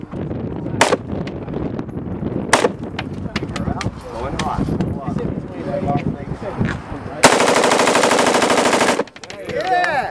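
Machine guns fire repeated bursts at an indoor Las Vegas shooting range, loud, sharp cracks and one long sustained volley near the end, with people talking between bursts.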